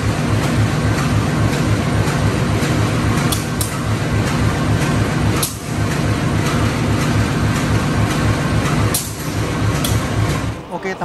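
Steady rumbling of the Airlangga passenger train running on rails after leaving Semarang, Indonesia, with rhythmic wheel clatter, loud and continuous, with a couple of brief dips in the roar.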